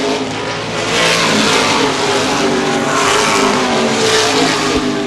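Late model sportsman race cars roar past on a speedway oval during the 2013 CRA Gold Cup 50 at Baer Field, a loud, steady blend of engines at full throttle with no break in the noise.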